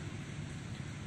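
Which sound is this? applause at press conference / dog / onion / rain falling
rain falling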